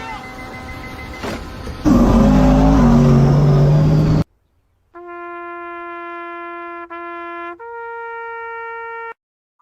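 A drag racing car at an outlaw drag strip roars loudly as it accelerates past. The engine noise builds for a few seconds, then cuts off and is followed by steady electronic tones.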